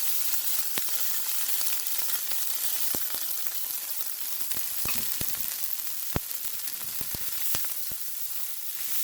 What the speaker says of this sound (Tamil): இந்த எண்ணெயில் கொஞ்சம் ஹீட்டை குறைய விட்டு பொறிக்கணும்